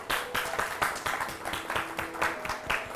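Audience applause at the Kisan Mahila Award 2019 ceremony, a steady burst of many hands clapping loudly and evenly throughout.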